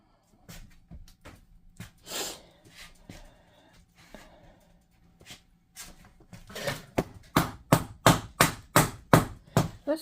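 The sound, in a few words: hammering laminate flooring to close gaps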